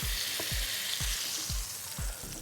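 Steady loud sizzling of turkey frying in hot oil, with regular low thumps roughly every half second as the pan is stirred or shaken.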